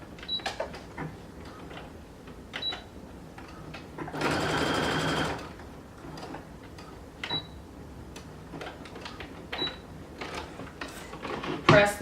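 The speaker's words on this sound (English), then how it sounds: "grab your waistband, and you're going to stitch it together at the center back." A sewing machine stitches a pants waistband together at the center back in one steady, loud run of a few seconds, with quiet handling clicks and taps before and after.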